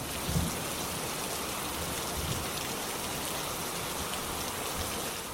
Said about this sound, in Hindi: मूसलाधार बारिश रुकने का नाम नहीं ले रही थी